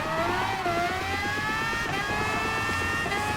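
A race car engine in Gran Turismo Sport revs steadily, its rising and falling harmonic whine continuous and loud throughout, with no voices over it.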